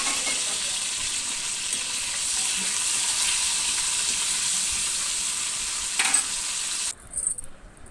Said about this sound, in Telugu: ఆయిల్ కాలిపోయిందండి, అందులో పోపు వేస్తున్నాను.